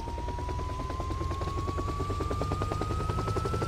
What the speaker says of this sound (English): We're about to figure out if I can fly a chopper on DayZ.